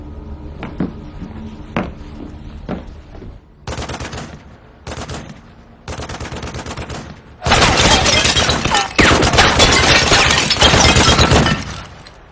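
Bursts of gunfire during shooting practice in a sci-fi setting: a few sharp isolated shots, then short broadband volleys that swell into loud, dense rapid firing near the end, with no talk.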